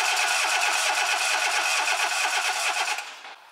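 A car engine with a spark plug removed cranks steadily during a compression test, a fast, rhythmic churning from the starter, loud and close, then cuts off near the end without firing.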